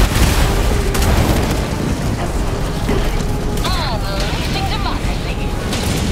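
Artillery barrage in Helldivers 2 lands nearby as a dense run of rumbling blasts and mechanical clatter, loud and continuous, with brief whistling tones and a voice talking over it.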